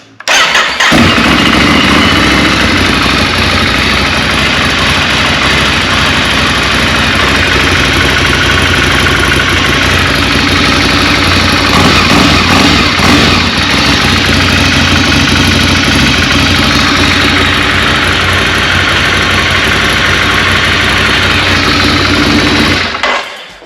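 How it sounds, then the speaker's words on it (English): A Ducati Desert Sled motorcycle with its stock exhaust runs loud and steady throughout, a continuous close-up exhaust drone with slight swells in pitch, no voices. "So that's your stock exhaust."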